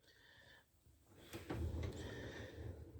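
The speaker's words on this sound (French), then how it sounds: "Donc ça, c'est le tiroir en 60." A kitchen drawer in a camper van slides open or shut, a soft scrape followed by a couple of dull knocks of its contents, close and alone against a low background hum.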